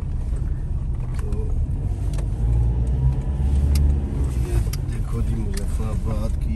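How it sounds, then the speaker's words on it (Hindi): Road traffic in Muzaffarabad, Kashmir: car engines rumble and pass nearby with occasional horn toots, under someone talking throughout. "जी मुजफ़्फ़राबाद की ट्रैफिक"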